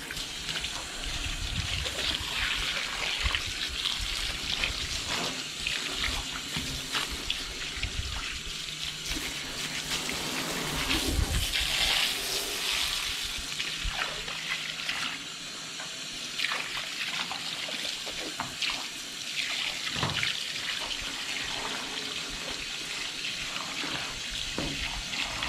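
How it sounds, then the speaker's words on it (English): Tap water running steadily while a gar fish is rinsed, a continuous splashing gush with uneven spatters and thuds as the fish is moved under the stream. "Since we did not bleed out our gar, we're gonna go ahead and rinse it off."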